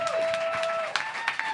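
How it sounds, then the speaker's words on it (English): A short burst of audience clapping at a live talk show taping, fairly quiet and fading, with a few sharper claps and a faint tone running beneath. "let's just start off with a round of applause for being here"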